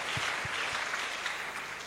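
Applause from an audience at a church gathering, a steady soft patter of many hands clapping throughout, a few low thumps near the start.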